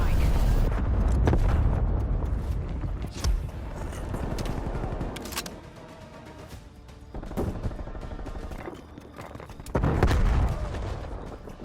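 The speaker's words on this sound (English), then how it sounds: "Cruise missile inbound." A cruise missile strike in Black Ops Cold War multiplayer: heavy booming blasts and rolling rumbles erupt amid bursts of gunfire, loud and close, swelling and fading in several waves, with game voices speaking in between.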